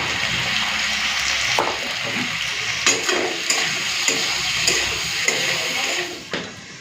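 Tomatoes with salt and turmeric sizzle steadily in a frying pan for chicken curry, with a spoon stirring and scraping through them in several distinct strokes; no one speaks.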